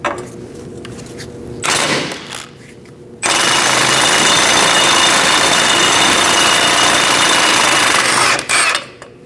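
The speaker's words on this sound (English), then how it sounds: "Using a 21mm socket, we're going to remove this nut and get the ball joint out of the control arm" A loud pneumatic impact wrench with a 21mm socket spins off a ball joint nut on a 2000-2006 Mini Cooper. A short burst comes first, then a longer sustained hammering run of about five seconds, close and harsh.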